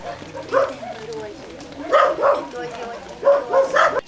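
Dogs bark and yip in a few short bursts at an animal shelter, fairly close, with a busy indoor background between the barks.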